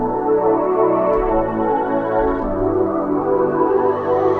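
The lush synth preset Eternal from Anna 2 plays sustained warm chords that swell smoothly and shift a couple of times, loud and alone without any voices.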